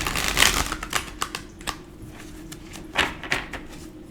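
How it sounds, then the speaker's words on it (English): Wisdom Oracle cards being shuffled by hand, giving quick papery riffling clicks in short uneven bursts, close and fairly soft against a quiet room with no talking. "Let me get 3 cards from my Wisdom Oracle"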